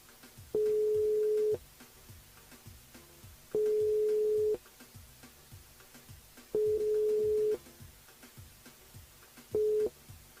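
Telephone ringing on a live radio call to a contest winner, four long, even tones separated by pauses of about two seconds, with soft background noise.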